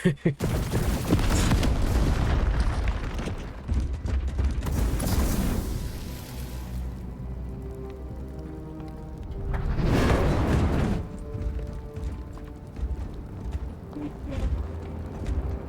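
Heavy explosions and gunfire-like bursts in the Space Marine 2 campaign, a loud dense barrage at the start and another blast around ten seconds, with rumbling battle noise between.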